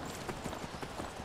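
Horse hooves clip-clopping at a gallop while riding in Skyrim, a steady rapid rhythm of thuds over a dense wash of background noise, close and continuous.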